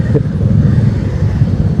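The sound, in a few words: morning traffic jam heard while riding a Shogun 125 SP motorcycle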